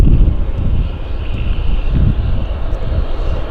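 Cargojet airliner coming in to land on runway 08 right at Vancouver airport, a steady distant engine roar with broadband wind rumble against the microphone, no talking.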